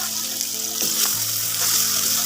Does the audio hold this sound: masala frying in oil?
yes